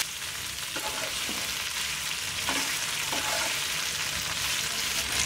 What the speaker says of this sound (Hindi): बस 2 से 3 मिनट तक ही हमें इसे फ्राई कर लेना है प्याज में